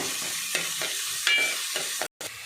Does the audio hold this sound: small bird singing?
no